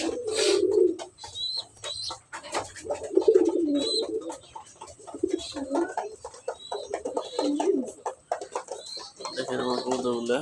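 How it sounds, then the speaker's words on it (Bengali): Pet pigeons coo in low, throaty bursts at a steady rhythm, several calls spread across the stretch, with chirps and brief voices or movement nearby. "এই যে দেখেন আমার কবুতরগুলো, এগুলো আমার অনেক শখের কবুতর।"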